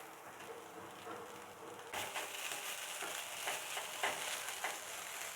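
Papad roll filling being stirred in a pan on the stove after lemon is added, a soft, steady sizzle with scraping spoon strokes that grow louder partway through.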